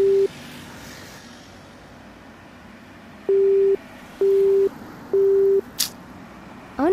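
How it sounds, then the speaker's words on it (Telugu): Telephone ringback tone while calling someone, three steady beeps in a row with short gaps between, then another starting at the end, loud and clear over a quiet background in a Telugu short film. "సిద్ధుకి ఒకసారి కాల్ చేద్దాం."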